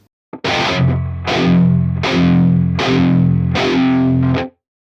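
Five chugging palm-muted chords on a heavily distorted electric guitar with the Bertom Denoiser plugin active, evenly spaced and loud, each clipped short before the next, ending in silence.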